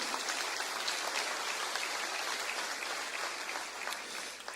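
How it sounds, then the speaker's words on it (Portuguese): A church congregation at an Assembleia de Deus Sunday service claps in a fairly quiet, even patter of applause from many hands, sounding somewhat distant and continuous before easing slightly at the end. "um aplauso lindo à palavra do Senhor nesta noite"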